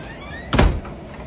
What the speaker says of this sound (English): Somebody open the door?